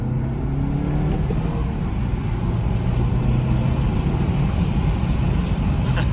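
A tuned 2019 VW GTI with a Stage 1 engine pulls away after a downshift into second gear, its steady, loud engine drone heard from inside the car with no one speaking.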